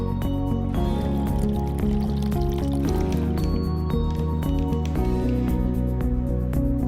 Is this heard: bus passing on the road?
no